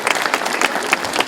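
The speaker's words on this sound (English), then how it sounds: "Clap it up for Chanel." A crowd at a basketball youth camp claps for the camp intern, a brief burst of brisk, fairly loud applause with rapid overlapping hand claps.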